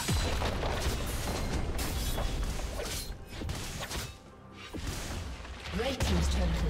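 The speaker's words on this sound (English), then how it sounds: "Red team's turret has been destroyed." A turret in League of Legends, during a Fiora versus Wukong top-lane match, is destroyed with heavy booming crashes and whooshing impacts that surge, dip into a quieter stretch, then return loud near the end.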